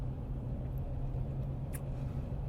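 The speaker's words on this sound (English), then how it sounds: "Traffic." Road traffic rumbles steadily and evenly throughout, a continuous low drone of passing vehicles with no distinct horns or voices.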